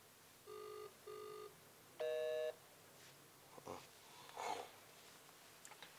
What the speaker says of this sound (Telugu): ఏ ఫోన్ చేస్తుంది ఎవరైనా